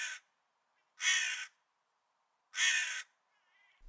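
Crows in a Hindi cartoon story caw three times, harsh loud calls in an uneven rhythm separated by near silence, alone with no voices.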